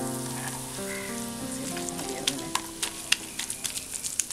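Onion and mutton sautéing in ghee, starting as a low hum of tonal noise before sharp crackling pops and sizzle build up close by in the second half.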